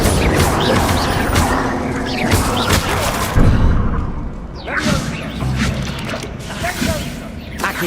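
Magical combat in Hogwarts Legacy, a Bombarda explosion spell among clattering, whooshing and crashing effects, a busy loud mix of bursts and debris with some voices mixed in.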